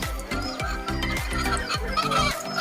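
A flock of chickens clucks continuously, with a low rhythmic thumping underneath; close and steady, no talking.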